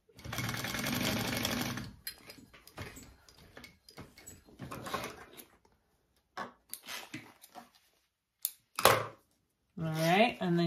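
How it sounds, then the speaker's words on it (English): A sewing machine stitches a triple-zip crossbody bag in a steady, fairly loud two-second run, followed by short bursts of stitching mixed with handling clatter and a voice speaking between them. "Whoops, sewing with my left foot."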